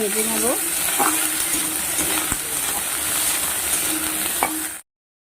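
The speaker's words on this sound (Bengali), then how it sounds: "বরবটিটা হালকা করে ভেজে নিয়েছি" Yardlong beans fry in a pan with a steady, close hiss and crackle. A few faint tonal sounds come and go, and the sizzle stops abruptly near the end, leaving silence.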